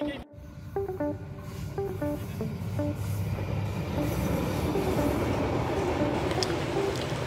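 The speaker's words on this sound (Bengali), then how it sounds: "এদিকে প্রবল গতি নিয়ে ঝিকঝিক শব্দে ছুটে আসা ট্রেন সবুজ গাছপালার ভিতর দিয়ে মুহূর্তে চলে যায় দূর সীমারেখায়।" A fast train on a rail line through green trees and autumn kash flowers near Naogaon sounds a few short tonal hoots, then its rumble swells into a loud, continuous roar of wheels and carriages as it approaches and passes.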